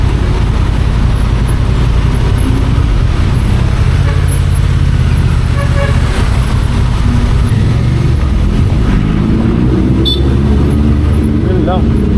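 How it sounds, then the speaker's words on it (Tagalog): Loud, steady road noise in a jam on EDSA in Manila, with engines idling and rumbling close by around a Honda Transalp 750 motorcycle, heard under someone talking. "It's a traffic jam."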